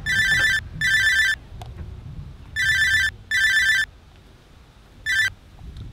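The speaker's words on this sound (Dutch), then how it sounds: "Telefoon." A telephone gives an electronic ringtone in loud, evenly spaced bursts of warbling tones, five of them separated by short quiet gaps, close to the listener and without any voice over them.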